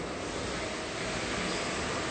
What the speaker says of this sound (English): So this is how the water comes out.